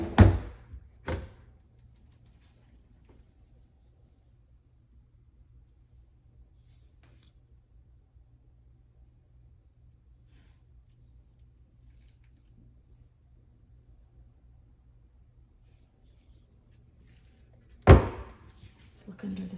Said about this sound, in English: Let's see how the drawers do function.